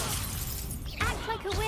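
A Confringo fire-blast spell in Hogwarts Legacy bursts with a sharp, shattering crack, followed by bright ringing, swooping magical tones close up.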